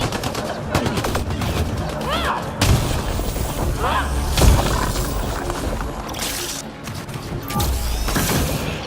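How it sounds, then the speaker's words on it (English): Loud combat in Mass Effect Andromeda, with a grenade fired and detonating amid rapid gunfire, heavy booms and thuds over dense continuous battle noise. "Launch the grenade! Goes away in 3."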